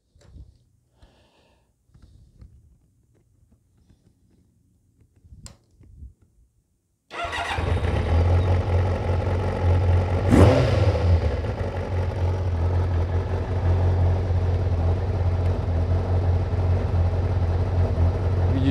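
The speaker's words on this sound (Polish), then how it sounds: "Także już Wam zaraz odpalę maszynę, zobaczycie, jak sobie pracuje." A rebuilt Kawasaki ZZR 600 motorcycle engine cranks and catches after a few quiet clicks, then settles into a loud, steady idle with one sharp rev partway through, close by.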